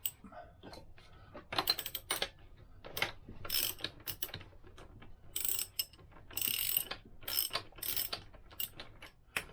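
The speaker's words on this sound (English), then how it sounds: "Ratchet" A hand ratchet turning on a Lambretta scooter engine during a big block upgrade: fast, close clicking in repeated bursts with short pauses between strokes.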